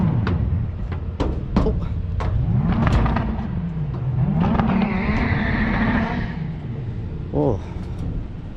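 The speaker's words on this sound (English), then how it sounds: "I think he's gonna do a burnout." A rear-wheel drive car at a race track revs its engine in rising and falling surges with sharp transient pops, loud and close, while people talk over it.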